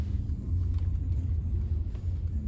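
A family car on a weekend road trip rumbles steadily from inside the cabin, a low continuous road and engine drone with no break and no talking over it.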